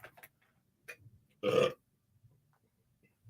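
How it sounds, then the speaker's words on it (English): A single loud, close burp rises out of near silence, with a few faint clicks and small noises before and after. "you heard me belch"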